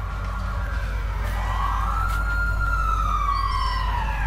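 A police car siren in Watch Dogs 2 wails loudly, its tone sweeping up and holding over a steady low engine rumble, with faint harmonic echoes and no talk.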